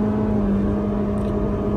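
A car engine hums at a steady, loud pitch with a strong droning tone on a clear road where races are held, close and continuous, no voices.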